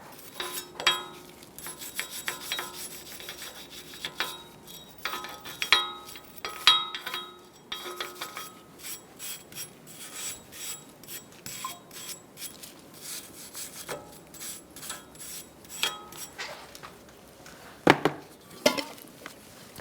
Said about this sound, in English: You can use a wire brush. Make sure you remove any debris, rust,